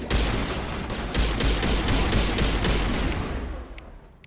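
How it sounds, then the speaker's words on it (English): Assault rifle gunfire in the game Mass Effect crackles loud and close as a dense burst of rapid shots, then fades out to a few scattered rounds at the end. "Liara's over here using an assault rifle"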